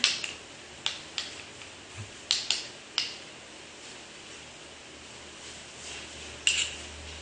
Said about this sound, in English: all I do is just give it a stir